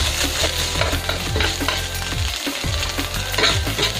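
Sardine sisig being stirred and fried in a pan, a steady sizzle with repeated scraping strokes of a utensil against the pan, close and continuous.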